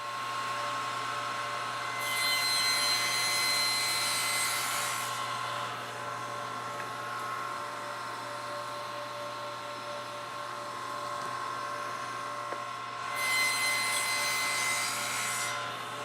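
Hand saw cutting a wooden tenon for a Morris chair in a woodworking shop, with two bursts of rasping sawing strokes separated by a long quieter stretch of steady background hum.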